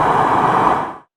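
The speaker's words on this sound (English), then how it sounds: "Now let's play some city traffic white noise." A recording of city traffic white noise plays back as a steady, loud broadband rush for about a second, then cuts off abruptly to silence.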